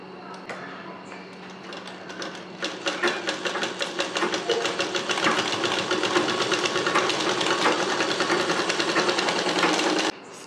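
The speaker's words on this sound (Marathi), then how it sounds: "आता या प्लीट्स आपण स्टिच करून घेऊ।" A sewing machine stitches pleats in sari fabric for a Gudhi Vastra, starting with slow, uneven stitches, then running in a fast, steady whir of needle strokes before stopping abruptly.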